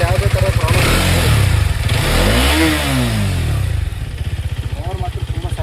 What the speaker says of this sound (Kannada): ನೋಡ್ಬೋದು ನೀವು, ಇಂಜಿನ್ ನಾಯ್ಸ್ ಏನು ಪ್ರಾಬ್ಲಮ್ ಬಂದಿಲ್ಲ